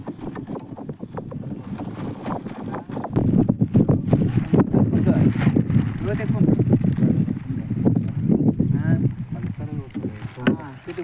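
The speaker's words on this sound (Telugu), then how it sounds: "మీకు గాలి సౌండ్ వినిపిస్తుంది కదా ఫ్రెండ్స్" Wind gusts roaring across open water at a large pond where fish are being netted, trees swaying nearby, a steady buffeting rush close to the microphone that strengthens after a few seconds, with voices talking underneath.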